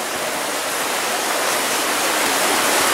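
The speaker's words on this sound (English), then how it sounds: "water wheel in motion" A water wheel spins slowly in a stream, giving a steady, dense rush and splash of water that holds even and close throughout.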